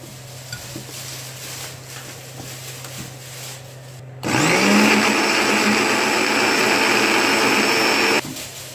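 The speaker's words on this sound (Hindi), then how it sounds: "सबसे पहले हम इसमें स्ट्रॉबेरी डालेंगे और इसको ग्राइंड करेंगे" Blender grinding strawberries for lassi, switching on abruptly partway through and roaring loud and steady for about four seconds before cutting off, after a quieter background hum.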